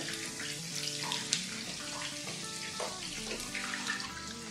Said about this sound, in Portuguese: O óleo já está quente, vamos fritar nossos canudinhos.